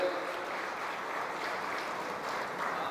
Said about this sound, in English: So let us give big round of applause to our Honorable Minister for visiting here.